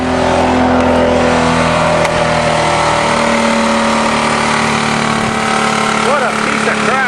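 A 20-ton bulldozer's diesel engine runs loudly and steadily close by, its drone rising slightly as the motor is sped up, with a voice speaking now and then over it.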